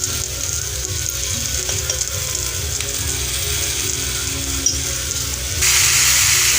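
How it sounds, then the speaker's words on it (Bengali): Vegetables for a neem-leaf curry frying in a pan, a loud continuous sizzle with stirring scrapes, growing brighter and louder near the end, no voices. "সবজিগুলো আমি ভেজে নেব 2-3 মিনিট"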